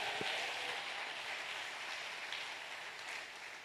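A church congregation at a Sunday service applauds the Lord. The clapping is soft and distant and runs steadily from start to finish, with a brief tone near the start.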